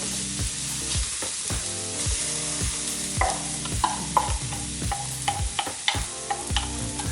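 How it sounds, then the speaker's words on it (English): Chopped onion frying in olive oil in a pan for a Spanish paella, a close steady sizzle with rhythmic scraping and stirring strokes against the pan and a few sharper clinks. "So onion goes into the pan."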